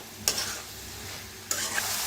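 A spoon stirs dingri mushroom bhaji in a hot pan, producing two distinct bursts of scraping, sizzling motion over a continuous frying hiss, close and moderately loud.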